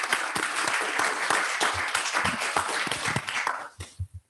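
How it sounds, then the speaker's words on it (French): Audience applause for Philippe Mar and Albert-Claude Benamou at a formal session opening, a dense steady round of clapping that ends abruptly, followed by a few faint low thumps. "Je vous demande d'applaudir Philippe Mar et Albert-Claude Benamou."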